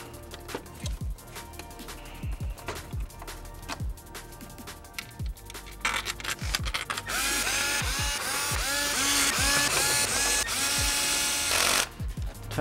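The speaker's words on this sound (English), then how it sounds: "Tightening down your intake bolts to final torque, which will be 9 Newton meters" A ratchet tightening intake manifold bolts to final torque: rapid, close mechanical clicking strokes that give way to a dense, continuous whirring rattle.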